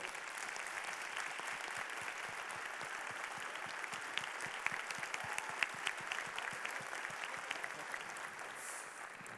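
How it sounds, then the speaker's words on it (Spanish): A crowd at a university-hosted forum gives sustained, even applause, many hands clapping together at a moderate distance with no voices over it. "Un aplauso, por favor."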